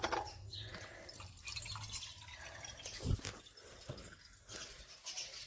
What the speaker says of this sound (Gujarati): દાદીને પાણી પીવું છે તો હું ભરવા આવી છું